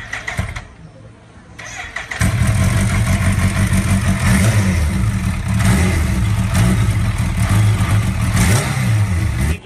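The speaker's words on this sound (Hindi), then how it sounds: "गाइस फाइनली देखिए हमारे ड्रीम बाइक में बैठे हुए हैं, और अभी एक बार आवाज सुनाते हैं आप लोग को" A motorcycle engine cranks, catches and starts, then rumbles loudly and steadily with slight revving, close by.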